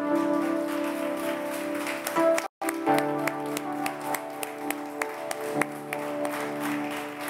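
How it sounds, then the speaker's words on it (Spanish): A church congregation applauds during a Spanish-language sermon, with scattered, uneven hand claps over steady sustained musical tones that run throughout and briefly cut out partway through. "Dele un aplauso al Señor, Él es bueno."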